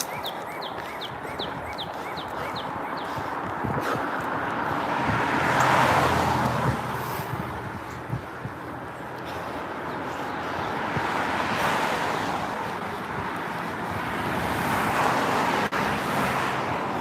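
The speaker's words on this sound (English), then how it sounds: "sorry for the sound of the cars going by" Cars pass by on a roadside while someone jogs. Broad traffic whooshes swell and fade in several passes, with faint bird chirps in the background.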